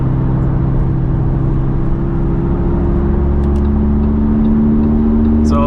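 A Lamborghini heading onto a highway on cold winter roads, its engine a steady loud drone with road and tire noise inside the cabin, smooth and unbroken.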